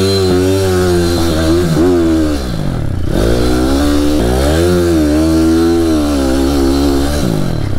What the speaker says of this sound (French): J'adore m'entraîner comme ça et faire déraper ta roue arrière.